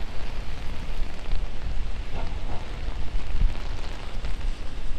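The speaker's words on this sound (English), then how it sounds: "it's raining out" Rain falls on a New York City street along Central Park South, a continuous, even hiss of drops on pavement with low city rumble underneath and no voices.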